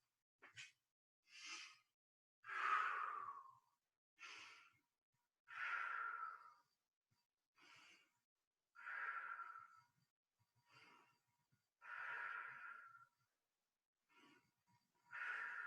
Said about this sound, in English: 5 long deep breaths in pointer pose.